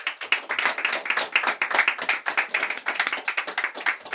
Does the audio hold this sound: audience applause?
yes